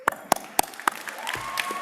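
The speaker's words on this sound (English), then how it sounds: "Applaud for yourselves as many times as you like." A few separate, sharp hand claps ring out at a Class of 2020 recognition ceremony, spaced about a quarter second apart, then fade into faint scattered clapping and room noise.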